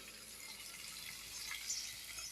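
Water is poured steadily into rice in a cooking pot for a village-style Bengali biryani, a soft, continuous, fairly faint rush with no talking.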